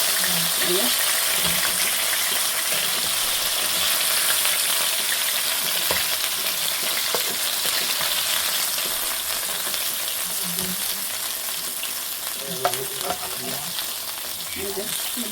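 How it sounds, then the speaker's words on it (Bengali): Tilapia fish pieces fry in hot oil, giving a steady, close sizzle that runs the whole time, with occasional stirring or scraping clatter and a brief louder pop near the end. "এভাবে লাল লাল করে ভেজে নিচ্ছি, আর এই মাছটা একটু ভেঙে গেছে। সবগুলো মাছ আমি ভেজে নেবো এখন।"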